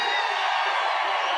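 A crowd at a film success meet applauds and cheers loudly, a dense wash of clapping and voices in a short burst.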